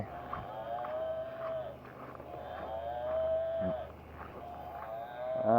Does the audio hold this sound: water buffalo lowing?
yes